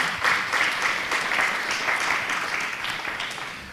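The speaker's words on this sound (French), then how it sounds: "Je pense qu'on peut vous applaudir, ainsi qu'Adrien." Audience applause at a public forum on civic democracy and public action, a steady, dense crowd clapping that fills the whole stretch at even strength before tapering slightly at the end, with no voices over it.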